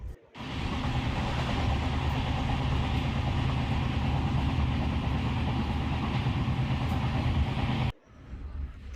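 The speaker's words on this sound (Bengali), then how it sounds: "তারপর ট্রেন চলতে শুরু করলো।" A train travels along the rails on a long journey from Lucknow to Kolkata, giving a dense, steady rumble heard from inside. It drops briefly at the start and cuts off near the end.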